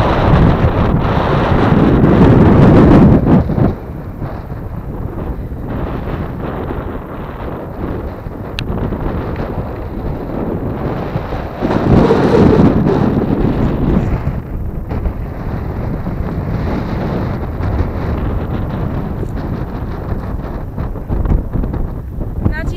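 Strong mountain wind near Rila buffets the microphone in loud, rolling gusts, with people talking under the roar.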